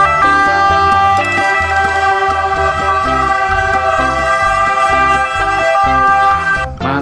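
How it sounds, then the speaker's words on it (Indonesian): A toy ambulance siren wails steadily and loudly up close, with a continuous electronic tone over a bouncy background tune. "Wih, ini ada mobil ambulan."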